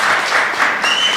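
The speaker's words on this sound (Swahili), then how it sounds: "Makofi" Sustained crowd applause at the 51st Magereza DT Sacco annual delegates' meeting, steady, dense clapping from many hands throughout with no voices on top.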